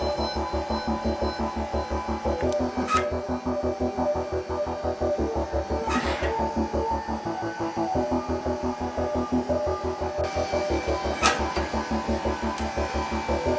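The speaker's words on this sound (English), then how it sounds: "We got some feeding set up, and it's hydraulic driven." A hydraulic-driven feeder runs on a thermal process development unit, giving a steady pulsing mechanical hum with a few brief sharp clicks over it.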